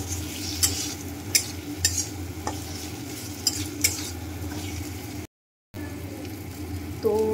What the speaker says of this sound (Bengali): তো মশলাটার মধ্যে আমি মাশরুম দিয়ে কষাচ্ছি